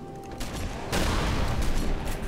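Shotgun blasts in the video game Halo: Reach: a sharp boom, then a heavier blast about half a second later, followed by a dense, continuous barrage of gunfire and explosions, loud and close.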